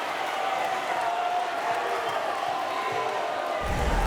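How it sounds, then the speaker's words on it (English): Crowd at a high school boys basketball game between Olathe West and Olathe North, a steady loud wash of many voices jeering and murmuring in a gym, with a deeper thump near the end. "And again, the crowd voices their displeasure."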